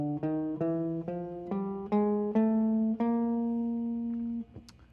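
Guitar playing the chromatic scale through all 12 notes in order, a steady ascending run of single plucked tones, each ringing clearly until the next, ending on a long sustained note that fades.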